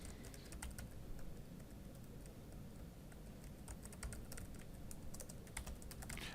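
Someone types an admin username on a computer keyboard, a quick irregular run of soft key clicks, close and quiet with no voices.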